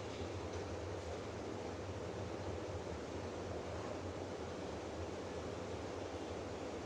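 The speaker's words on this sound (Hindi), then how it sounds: "कितनी तरह से इसमें पानी का फुहारा जा रहा है" Water sprays steadily from a lotus-shaped fountain, a dense continuous hiss and rush that stays loud and even throughout with no voices.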